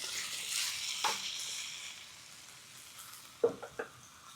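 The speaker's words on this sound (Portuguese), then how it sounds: "cada parte da carne que já dourou, eu vou passando para a panela." Browned meat and bones are added to a hot pot for tcholent, giving a soft continuous sizzle with a few sharp clacks and scrapes of stirring near the end. No one speaks.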